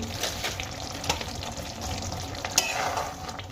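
A spinach and gram flour dish with kasuri methi is stirred in a pan, giving a soft continuous sizzle with scraping stir strokes and a few sharper clinks, close and moderately quiet.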